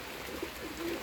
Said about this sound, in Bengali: কবুতর ভিতরে বসে আছে সব কবুতর।